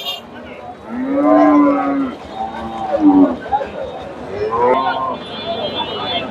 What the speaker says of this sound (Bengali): এ পাশে অনেক গাভী আছে